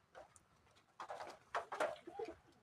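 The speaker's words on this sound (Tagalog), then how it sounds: "Mga kalapati." Pigeons cooing close by in a backyard coop, several soft low coos coming in short clustered bursts after a quiet start.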